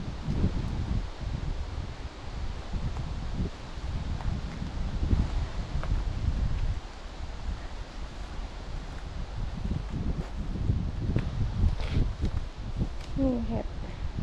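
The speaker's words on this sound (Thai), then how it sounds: "ลมเย็นสบายมากเลยคุณ" Wind blowing through a forest while mushrooms are gathered, with gusty rustling of leaves and microphone buffeting that swells and eases, and a voice talking intermittently.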